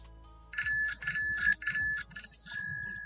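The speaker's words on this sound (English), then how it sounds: "Let me get the bell out." A bicycle-style bell is rung repeatedly in celebration after a poker hand is won during an online poker session, with several bright, loud rings in quick bursts that stand alone without talk.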